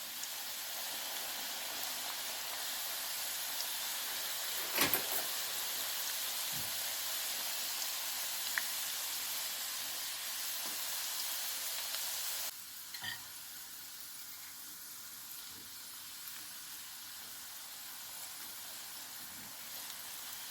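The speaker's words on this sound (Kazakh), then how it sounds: "Енді лапшамызды қуырып аламыз." Noodles frying in oil in a pan, an even, hissing sizzle held steady and close, with a couple of brief clinks; the sizzle drops to a quieter level partway through, with no talking.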